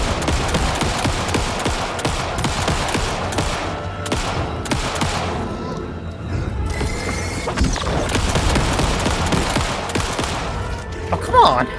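Dense gunfire in the video game Alan Wake 2, loud rapid shots and bursts layered over one another almost without pause, with a heavier boom near the end and occasional voice underneath.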